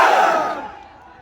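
A rally crowd roaring a slogan in answer to a Takbir call at a political gathering in Govandi, a loud massed shout that fades out within about a second.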